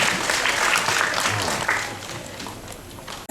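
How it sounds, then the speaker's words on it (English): Steady, dense applause fills a graduation ceremony hall as Ms. Roberts and Ms. Clark are welcomed, a broad wash of many clapping hands that fades slightly toward the end. "Let's give a round of applause for Ms. Roberts and Ms. Clark"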